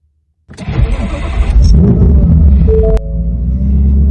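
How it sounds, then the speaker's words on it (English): A Whipple-supercharged Ford Mustang with a Borla exhaust cranks and fires up after a moment of silence, catching with a loud rumble and then settling into a deep, steady idle close by. "I'm going to go ahead and start my car, let you hear it"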